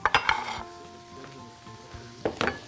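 Onion and chicken frying in a pan give a soft sizzle under clattering of a utensil against the pan, with bursts of stirring at the start and end.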